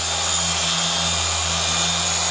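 A car polisher hums steadily on gloss piano black pillars, a constant mechanical whir with a low motor drone and bright hiss, unbroken and close for the whole stretch, no speech.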